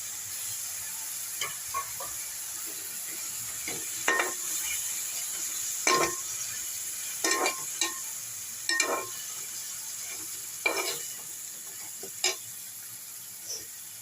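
Fenugreek leaves and tomatoes with salt sizzle gently in a frying pan under a soft steady hiss, broken by about ten sharp scrapes and clinks of a spoon stirring against the pan.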